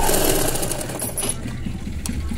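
Sewing machine stitching thread piping onto a square-neck blouse, a loud, steady mechanical whir with a rapid needle rhythm that eases slightly partway through.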